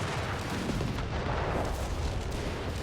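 Heavy weapons fire fills a Company of Heroes 3 battle between British forces and enemy tanks, a dense, continuous roar of artillery and gunfire with no pause or voices.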